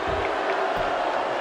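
Crowd at a live wrestling show, a steady roar of cheering and shouting that fills the space evenly, with no single voice standing out.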